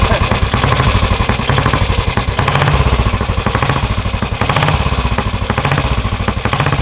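A classic motorcycle engine from a long-owned collection runs steadily at close range, a loud continuous throbbing beat with slight swells in revs throughout, and no talk over it.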